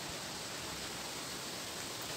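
Water flows in the forest near an old ficus tree as a steady, broad rushing hiss, continuous and even, fairly faint with no other sounds.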